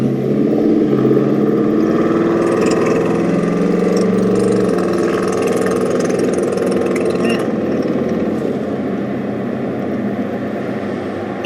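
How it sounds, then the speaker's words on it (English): Another driver's truck idles and rumbles close by, a loud, steady engine drone that shifts midway as it moves off, heard from inside a car. "You guys hear that guy's amazing truck compared to my lady car?"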